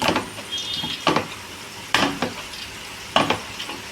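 Twister snack frying in hot oil while being stirred, giving a steady low sizzle broken by three or four louder scraping stirs spaced about a second apart, close by with no talk.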